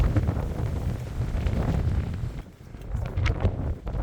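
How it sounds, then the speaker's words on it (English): Strong wind roars and gusts around a fire tower on a winter mountain in Colorado, a continuous buffeting rush with a brief lull partway through before it surges again. "While spending time in the tower, the wind outside picked up considerably."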